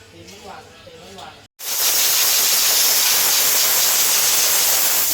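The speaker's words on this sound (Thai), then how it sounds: "เป่าฝุ่นทำความสะอาดของหม้อน้ำนะคะ" Someone speaks briefly, then after a short pause a loud, steady blast of compressed air hisses continuously, blowing dust from a Suzuki Ertiga radiator, until the end.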